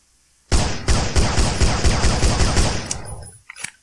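Rapid automatic gunfire in a Slenderman shooter game, a loud close burst of about ten evenly spaced shots lasting roughly three seconds, then a couple of faint clicks.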